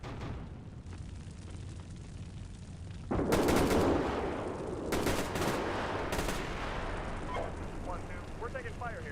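Incoming fire in the Steel Beasts Pro PE tank simulator, with sharp bursts of gunshots and machine-gun rattle that strike suddenly over a steady engine rumble, loud and close, as radio voices speak.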